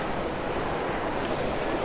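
Fast, flooded creek water rushes in a steady, broadband roar, close and constant with no break.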